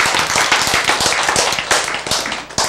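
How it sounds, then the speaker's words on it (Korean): A church or lecture audience bursts into loud, dense clapping up close, many hands overlapping into rapid continuous applause for nearly three seconds. "자, 박수."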